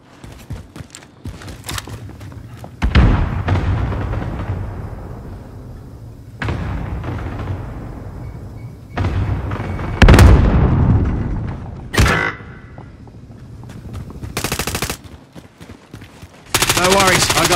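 Video game combat with machine-gun bursts and sharp explosive thumps, loud and close, arriving in separate clusters between stretches of quieter background, with occasional speech over them.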